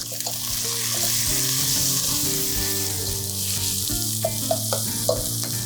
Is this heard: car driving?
no